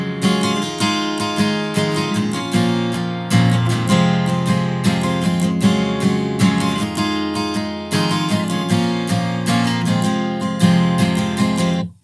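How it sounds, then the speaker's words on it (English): Strummed guitar chords in a song's pattern, played steadily and fairly loud with a regular rhythmic pulse throughout, no talking. "the strumming you can play through the rest of the song sounds like this."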